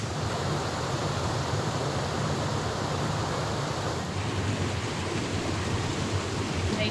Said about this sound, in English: enjoy the sound of the little waterfalls coming down into the pool